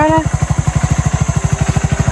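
A motorcycle engine catches and settles into a loud, close, evenly pulsing chug, with a brief voice over the first moment.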